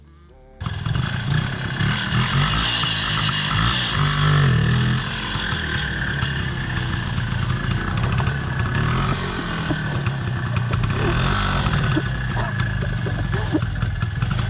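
An Izh enduro motorcycle engine runs loud and close throughout, with a steady mid-range drone and some throttle swells early on. Forest riding on a hill.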